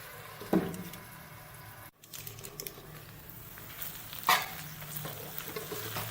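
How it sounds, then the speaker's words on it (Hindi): Onions fry gently on a tawa for kaleji, a soft, low sizzle close by with a couple of sharp clinks of stirring and no speech. "प्याज फ्राई हो चुकी है"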